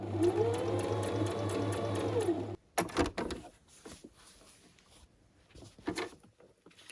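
A sewing machine runs steadily for about two seconds while stitching a straight seam on fabric, then stops, followed by scattered clicks and small handling noises nearby.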